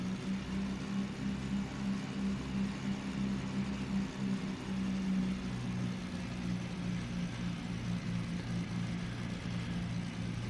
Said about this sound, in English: just to make sure that we're not overbearing on the engine sound, because I did turn that up slightly